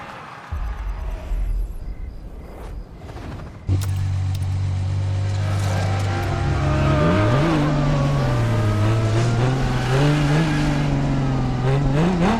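A Ferrari Enzo in The Crew Motorfest starts up and revs hard, its engine note climbing and dipping loud and close over a steady drone.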